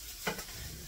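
Ground meat for a gluten-free Big Mac casserole sizzles and pops in a pan while being stirred, a brief close scrape over a low frying hiss.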